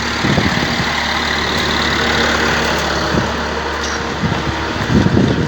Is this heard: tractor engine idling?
yes